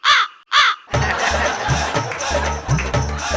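Loud, close crow caws: two harsh calls in quick succession, then a rapid run of cawing over noisy background chatter, part of a comedy stage skit in which a crow is shown as a street fortune-teller.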